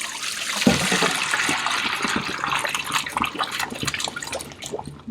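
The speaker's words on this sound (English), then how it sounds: "I'm going to start just pouring a little bit at a time." Cheese curds and whey from raw milk poured a little at a time into a mesh strainer, a continuous splashing, trickling flow of liquid with irregular drips, close and fairly loud, without speech.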